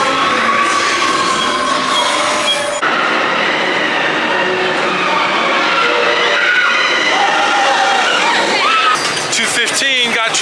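Tron Lightcycle roller coaster at Magic Kingdom rushing along its track, a loud continuous roar with rumbling wheels and screeching, whooshing surges and rider voices mixed in throughout.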